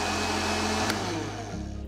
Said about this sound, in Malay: masuk gula dalam blender kering dan kisar halus